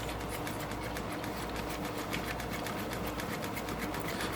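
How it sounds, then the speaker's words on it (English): New electric fuel pump on a Cummins engine swap running steadily, a rapid, even mechanical buzzing pulse at low volume with constant background hum throughout. "Got a new fuel pump back there."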